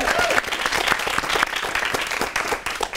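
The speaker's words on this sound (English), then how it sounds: "can we get another round of applause for Nellie?" A studio audience breaks into a dense round of applause for a performer after her audition on a comedy show, steady and full for the whole stretch with a faint voice briefly underneath.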